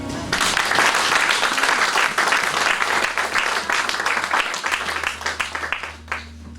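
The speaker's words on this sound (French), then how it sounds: "On acclame le Seigneur" A church congregation applauds the Lord, a dense, sustained burst of clapping that stays loud throughout and thins slightly near the end, with a low musical drone underneath.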